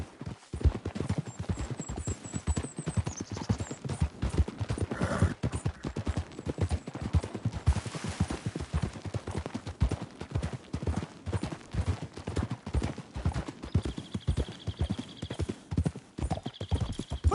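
Horse hooves gallop in a steady, rapid clip-clop rhythm throughout a Red Dead Redemption 2 gameplay scene, loud and close, with a brief whinny and faint game sounds in the background.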